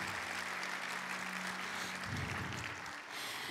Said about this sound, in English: Can we give our mothers another round of applause?